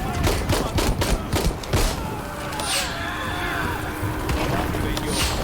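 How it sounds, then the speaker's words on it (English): Gunfire in the Shadow of the Tomb Raider video game, a burst of sharp repeated shots in the first two seconds followed by a steadier rumble, with a person talking over the game sounds. "Who's shooting me?"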